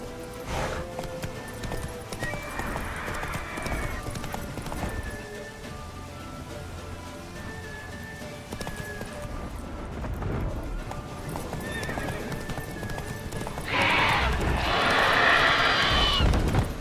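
Roach the horse in The Witcher 3 video game gallops with steady clip-clop hoofbeats throughout, neighs and whinnies loudly several times, and ends in a louder rushing burst, with game sounds layered underneath.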